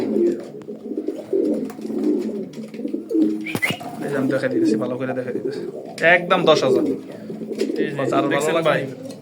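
Racing pigeons coo softly in the background while someone talks loudly and continuously over them.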